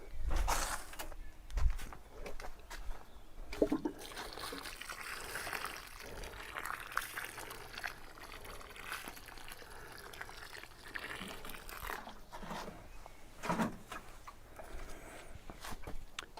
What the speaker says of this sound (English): Water in well.